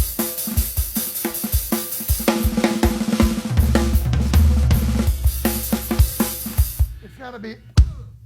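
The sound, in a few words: heavy-handed rock drum beat without kick and snare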